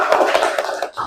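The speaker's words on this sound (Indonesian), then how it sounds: "tepuk tangan untuk Sabila dan Mbak Zahra" Children clap together in a classroom, a dense burst of applause that runs steadily for about a second before briefly thinning out at the end.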